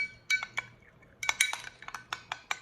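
A utensil stirring salad dressing with diced shallots and garlic in a bowl, giving a string of sharp, bright metallic clinks in irregular clusters, close and fairly quiet.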